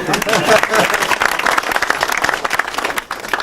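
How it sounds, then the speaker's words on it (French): Audience applause at a French inauguration ceremony for a community centre, a full burst of clapping that holds and then thins out toward the end, with a voice mixed in. "Merci de vos applaudissements."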